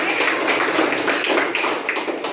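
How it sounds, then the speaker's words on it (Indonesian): A classroom of students claps for a student group, a short burst of dense, lively applause heard close up. "tepuk tangan dulu untuk kelompok sidik"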